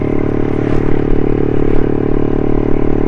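Suzuki Satria FU 150 motorcycle engine running after a rebuild, a loud, close, steady idle with a dense mechanical rattle and even hum throughout.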